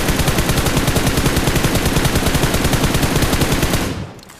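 Sustained, rapid automatic gunfire from the mobile battle-royale game PUBG Mobile, loud and continuous with a dense rattling rhythm, cutting off abruptly near the end with no voices.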